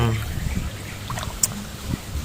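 Free-flowing water runs steadily through a fish pond on a farm, a low continuous trickle and gurgle heard from nearby, fairly faint under a background hum.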